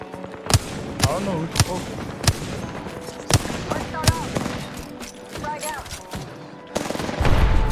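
Video game gunfire in a multiplayer shooter, with sharp shots in a steady burst and several louder cracks spread across the clip, played against busy game effects while a voice talks over it.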